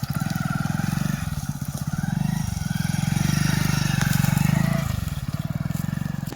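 A motorcycle engine putters close by with a rapid, rhythmic chug that rises and falls as the throttle changes.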